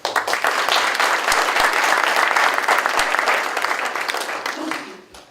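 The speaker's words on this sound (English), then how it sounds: "we'll give you a round of applause as well" Audience at a school board of education meeting breaks into a round of applause for a family, sustained steady clapping that fades out near the end.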